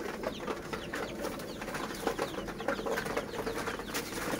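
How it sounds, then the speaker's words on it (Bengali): Lotan pigeon chicks in a pigeon loft make soft, irregular cheeps and cooing calls close by, with a low background murmur throughout. "এই লোটনের বাচ্চা"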